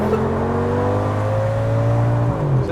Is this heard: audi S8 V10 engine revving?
yes